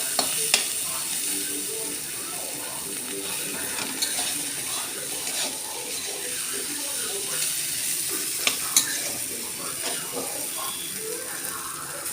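Food sizzles steadily in a pan, a continuous crackling hiss with scattered small clicks and a few louder taps of a utensil against the pan.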